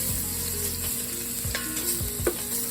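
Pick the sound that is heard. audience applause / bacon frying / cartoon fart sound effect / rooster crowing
bacon frying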